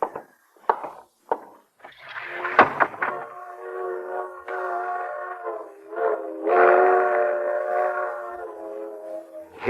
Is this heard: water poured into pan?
no